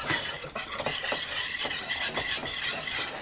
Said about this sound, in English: Let's use a metal whisk in the metal pan and combine that butter and flour